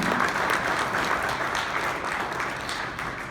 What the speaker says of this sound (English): Round of applause for County Kerry.